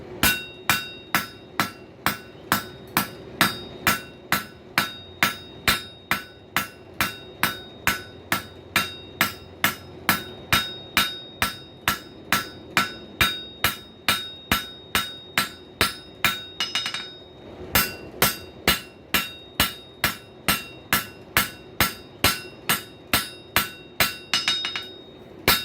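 A hammer pounds a hot wrench flat on an anvil while forging a grilling fork, dozens of sharp ringing metallic blows in a fast, even rhythm, close and loud, with a short break midway.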